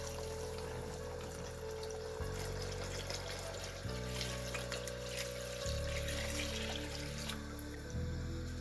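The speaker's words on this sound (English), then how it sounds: "We're gonna add just 2 liters of hot water." Two liters of hot water pour into a cooking pot of lamb kabsa in a home kitchen, a steady, fairly quiet gushing stream running unbroken throughout.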